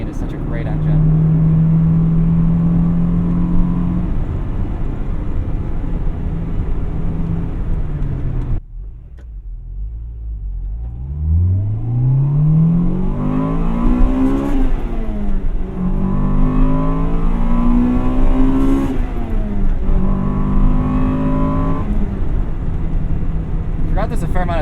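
A 1998 Acura Integra Type R engine climbs through the revs into VTEC, the rising wail repeating across several gear pulls, loud and close from inside the car, with a brief drop in between.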